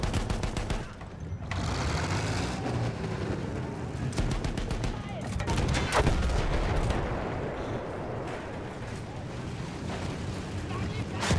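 Heavy tank cannon fire and explosions rumble through a Battlefield 1 battle, several loud booming blasts with a dense, continuous roar of gunfire and debris, while someone talks over the action.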